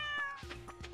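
Two or three short, clear meows from a cat in Stardew Valley come one after another in quick succession, close and distinct.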